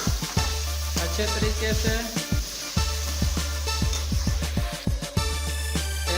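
Chopped green chilies are stirred into frying masala for village-style chicken biryani. A steady sizzle runs under repeated metallic spoon scrapes and clanks against the pot, close and busy, with someone speaking briefly.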